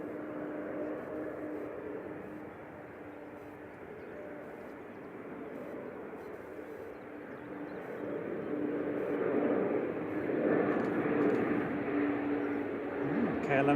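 A KLM airliner in Sky Team livery at Manchester Airport gives a distant, steady jet rumble that slowly grows louder toward the end, with a person talking quietly over it.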